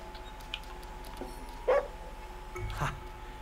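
A dog in the video game Ghostwire Tokyo gives a couple of short yips and whimpers over a steady game background hum, with a low thump near the end.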